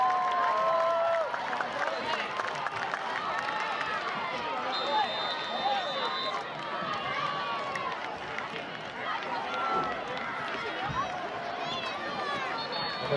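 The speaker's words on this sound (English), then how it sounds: "Put your hands together for the varsity cheer for the Kersley Hornets." A crowd in the stands claps and cheers for the Kersley Hornets varsity cheer squad at a homecoming football game. Steady, moderately loud applause mixes with crowd babble, and a voice talks over the PA system.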